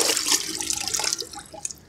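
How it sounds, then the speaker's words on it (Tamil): A stone treated with waterproofing chemical is dipped into water and lifted out, with splashing, dripping and trickling water that fades toward the end. "அந்த கல்லை தண்ணியில் முக்கி எடுக்கிறோம்."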